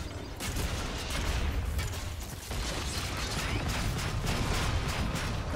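In the video game Evolve, a weapon reloads with clicking, ratcheting mechanical sounds amid dense, continuous gunfire and game action, loud and busy throughout with no clear pauses.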